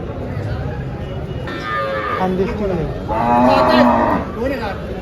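Cows moo loudly and close at a cattle market in Dhule, India, several long drawn-out lowing calls overlapping against a busy background murmur.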